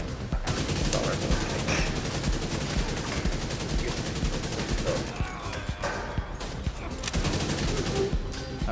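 Assault rifle fire in The Division 2 video game, dense automatic shots rattling almost continuously and loud throughout, with a few breaks in the rhythm near the end.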